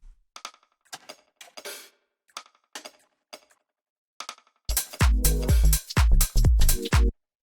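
Sparse clicky percussion hits from a drum rack in a loose pattern for minimal dub house, then a louder, denser burst of mixed drums and metallic hits near the end.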